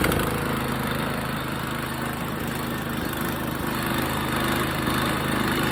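A lawn mower engine that had been tilted backwards, running after a pull start with a steady, close mechanical drone and faint irregular knocks.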